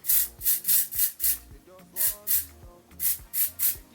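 A spray product is misted onto a wig from a distance, about a dozen short hissing bursts in quick rhythmic succession with brief gaps between them.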